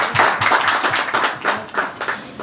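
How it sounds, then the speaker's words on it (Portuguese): An audience at a talk event in Portugal claps in a brief, lively burst of applause, individual claps clearly audible and fairly close. "A Laurinda Dias, uma grande salva de palmas."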